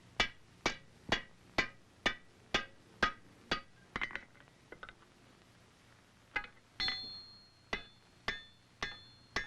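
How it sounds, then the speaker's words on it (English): Hand hammer striking a hot iron flintlock rifle barrel during forge-welding at the seam, a steady series of sharp, ringing metallic blows close by, with a brief cluster of lighter clinks midway before the rhythmic strikes resume. "You start welding the barrel in the middle and work toward the ends."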